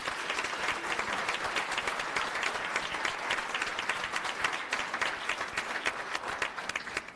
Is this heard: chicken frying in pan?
no